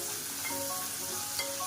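Onions and chilies fry steadily in a pan for a beans poriyal, giving a continuous, even sizzle with faint crackles throughout and no pauses.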